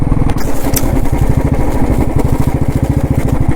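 An old Royal Enfield Bullet motorcycle thumps along steadily on a ride from Kukke Subramanya to Sakaleshpura, its rapid, even engine beat loud and close with wind rush throughout.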